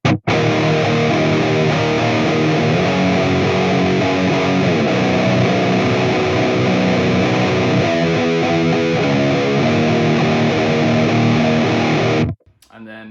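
A heavily distorted electric guitar plays a slowed-down riff, loud and sustained, ending abruptly near the close.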